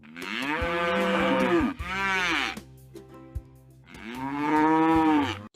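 A cow moos loudly and close in long, drawn-out lowing calls, two back to back and then a third after a brief pause.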